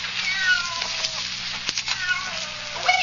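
A cat meows several times in quick succession, loud and close, with thin, wavering, drawn-out cries over a quiet low background, alone without talking.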